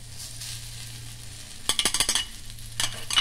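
Grated coconut fries in oil in a pan for village-style chicken sambar, a steady sizzle with a burst of scraping, clattering stirs in the middle and another near the end.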